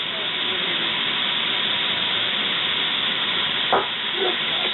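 Ground meat fries in a pan for spaghetti, giving a steady, close sizzling hiss throughout, with a brief scrape near the end.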